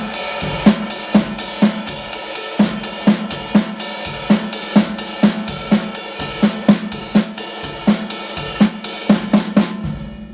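Drum kit playing broken jazz time, the right hand riding steadily on the ride cymbal while improvised snare and kick accents fall around it in a loud, close, continuous swinging pattern with no talking.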